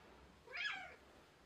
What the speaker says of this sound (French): Je vous montre le petit chat.